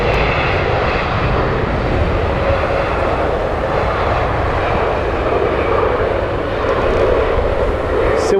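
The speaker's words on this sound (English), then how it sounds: "Here is Aer Lingus flight here from Cork." Aer Lingus airliner from Cork landing at Heathrow Airport, its engines a steady, loud broadband roar that holds for the whole stretch with no talk over it.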